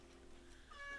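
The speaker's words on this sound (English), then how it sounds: "That's my cat in the background" A pet cat meows faintly in the background of a quiet indoor room, a short thin cry that rises near the end.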